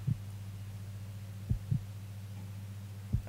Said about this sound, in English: I don't like the fact there's a heartbeat.